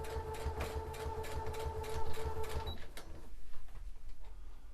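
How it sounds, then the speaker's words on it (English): Sewing machine stitching a straight line through dress fabric, a rapid rhythmic mechanical whirring and tapping that runs loud and steady, then stops, leaving quieter handling noise. "then you just start sewing. Just stitch right down that line."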